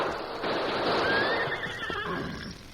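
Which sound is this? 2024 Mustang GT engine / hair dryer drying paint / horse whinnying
horse whinnying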